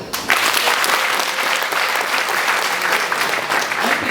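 A large crowd at a stadium event for African Traditional Medicine Day breaks into loud, sustained applause, a dense wash of clapping that rises sharply and holds steady for several seconds without speech.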